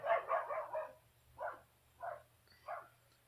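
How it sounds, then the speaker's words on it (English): A dog outdoors barking at a distance: a quick cluster of barks followed by three spaced single barks, muffled and moderately faint, with no talking. "I have a dog that's going crazy outside"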